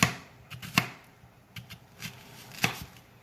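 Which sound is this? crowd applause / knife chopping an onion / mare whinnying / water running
knife chopping an onion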